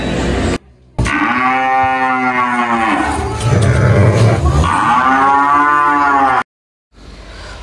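Cattle at an Indonesian breeding farm moo in long, loud, drawn-out calls close by, one low bellow running several seconds after a brief opening call, with no talking.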